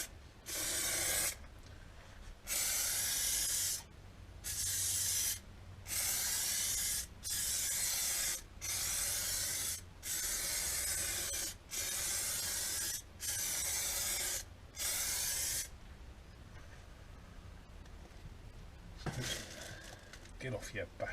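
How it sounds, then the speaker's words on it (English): Clear coat sprayed onto a Kawasaki ZZR1400 lower motorcycle fairing in a run of about ten even, close, loud spray-gun bursts with short gaps between them, then fainter handling noises at the end. "we're now layering up the clear coat"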